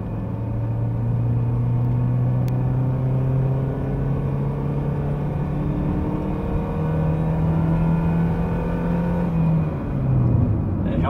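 A 2002 Ford Mondeo Ghia sedan with a four-speed CD4E automatic pulls hard at full throttle, its engine drone climbing steadily in pitch for about nine seconds before a gear change drops it, heard loud from inside the car.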